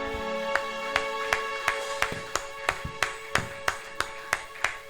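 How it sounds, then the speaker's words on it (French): Hands clap in a steady, even rhythm, about three sharp claps a second, over sustained music with a droning tone; the claps sit clearly on top of the music and no one speaks. "Babete maboko ndenge nini."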